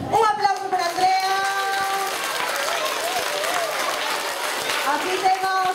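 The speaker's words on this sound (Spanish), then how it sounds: "Un aplauso para Andrea." Audience applause at a school talent show, a steady wash of clapping mixed with crowd cheers and voices, with people talking over it throughout.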